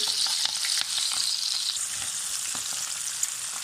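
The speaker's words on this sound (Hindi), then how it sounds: "इनको बस हल्का सा फ्राई करना है, बस हल्का सा इनको हम फ्राई करके बाहर निकाल लेंगे।" Sliced boiled potatoes and green chillies fry in hot oil, giving a steady, close hissing sizzle with small crackles and a few stirring clicks throughout, no voices.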